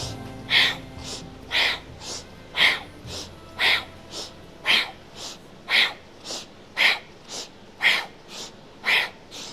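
Rhythmic yoga breath work in a Kundalini class: about eleven sharp, evenly spaced breath pulses at roughly one per second, close and fairly loud, with no talking over them.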